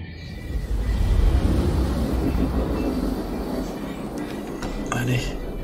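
Train cars rumble past in the GTA 5 video game, a loud low roll that swells and then fades, with a few clanks near the end.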